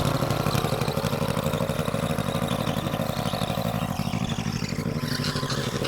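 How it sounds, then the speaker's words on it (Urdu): A small-scale farm tractor engine runs after starting, a steady, loud, close mechanical chug with a continuous low throb and no voices. "یہ ہمارا ٹریکٹر چلنا سٹارٹ ہو چکا ہے"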